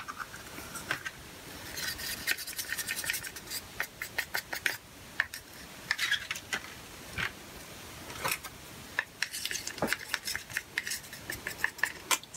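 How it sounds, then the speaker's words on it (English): Acrylic paint being stirred in a cup, a run of quick scraping clicks and rubbing taps close up, irregular in rhythm, with no talk. "Give it a good stir."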